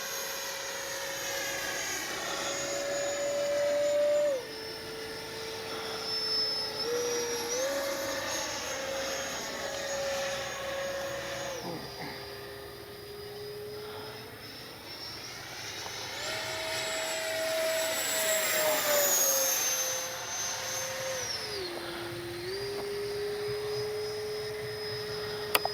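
A Freewing 90mm F4 Phantom II radio-controlled ducted-fan jet streaks past on a warm day, its steady high whine rising and falling in pitch as it passes, heard from a distance with no talk.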